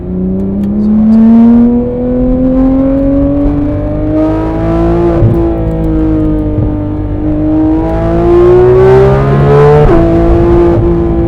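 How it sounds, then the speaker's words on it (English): A Porsche 991.2 GT3 RS engine revs loudly and climbs in pitch, dropping briefly at each gear change before rising again, close and powerful. "Drop down some gears so you can hear the car."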